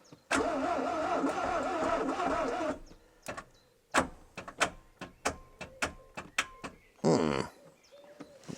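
An old car left unused for 26 years cranks with a sustained rhythmic starter whir, then falls into short separate clicks and thuds before a second brief cranking burst, close up with no talk.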